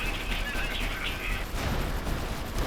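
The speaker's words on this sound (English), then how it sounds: "Significant enemy fire." Distant gunfire from an Iron Harvest battle during a night raid, a muffled continuous fusillade of overlapping shots beneath a steady wash of noise, fairly faint throughout.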